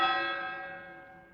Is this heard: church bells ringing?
yes